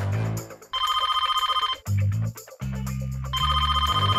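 A phone ringing in the block-style game Blockman Go, a loud repeating electronic ringtone in steady pulsed bursts with a short break in the middle, no talking over it.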